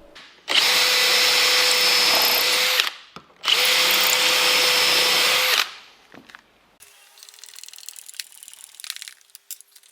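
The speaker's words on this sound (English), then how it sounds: "I'm going to attach these by drilling 2 holes" A power drill boring holes into reclaimed timber rails for a desk build, two loud, steady whining bursts of about two and a half seconds each separated by a short pause, then quieter scraping and handling noises.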